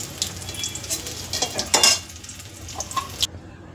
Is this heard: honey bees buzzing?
no